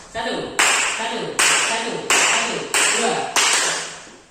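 Bursts of group hand clapping from a classroom of pupils in a counting clap game, sharp onsets repeating about every 0.7 seconds and each decaying, with a teacher's voice calling counts between them.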